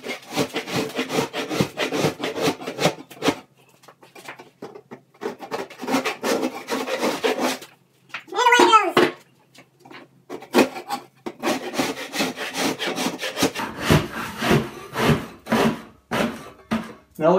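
A scraper pulls popcorn ceiling texture off in sheets, making repeated close rasping, scratchy strokes in bursts with brief pauses between them.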